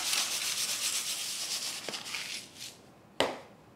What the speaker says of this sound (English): sprinkle the baking sheet with salt